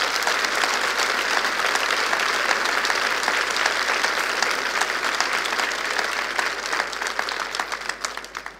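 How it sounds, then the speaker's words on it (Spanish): A church congregation applauding for several seconds during a Spanish-language service, a steady dense roar of clapping that stays even and eases slightly at the end. "Dale un aplauso fuerte al Señor."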